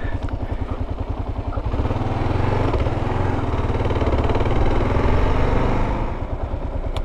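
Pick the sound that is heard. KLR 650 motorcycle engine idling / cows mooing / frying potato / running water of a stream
KLR 650 motorcycle engine idling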